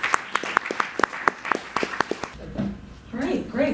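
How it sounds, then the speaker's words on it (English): A classroom audience at U.C. Berkeley gives a speaker a warm round of applause, with dense, close clapping for a couple of seconds before it thins out and voices start talking. "let's give her a warm round of applause."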